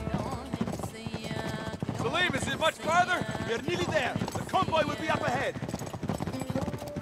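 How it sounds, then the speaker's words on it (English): Steady clip-clop of horse hooves close by, running under continuous talking and laughter, with a few voiced exclamations. "I can't believe I'm riding on a horse."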